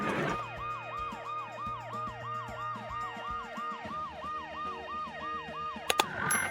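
Inside the video game Dead Synchronicity, an ambulance siren wails in loud, repeating up-and-down sweeps over a low engine rumble, ending in a brief sharp clatter.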